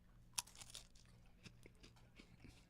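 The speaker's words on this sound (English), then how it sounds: "Y'all heard the crunch." Someone bites into a crunchy food, giving one sharp close crunch followed by several quieter crackling chews, faint and spaced out over near silence.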